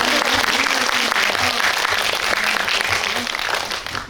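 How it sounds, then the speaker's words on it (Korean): Loud, sustained applause from a film screening audience at a Q&A event, a dense steady roar of many hands with a little crowd murmur, fading slightly at the end. "박수 한번"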